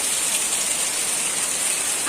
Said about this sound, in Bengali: এত বৃষ্টি পড়ছে মানে প্রচুর হাওয়া দিচ্ছে